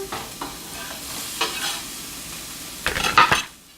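Red pepper and onions sizzle in a pan, stirred with a utensil in a few scraping strokes that end in a brisk flurry, close up and alone.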